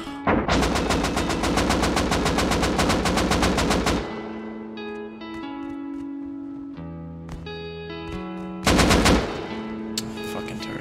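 An automated turret in the video game Rust firing loud, rapid machine-gun bursts, one long stream then a shorter burst later, with in-game tones and musical beeps between the bursts.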